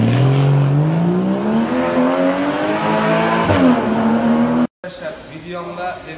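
A Ferrari sports car engine revs up through the gears, rising harmonic tones climbing and dropping as it accelerates, loud and close, cutting out abruptly near the end before resuming more faintly.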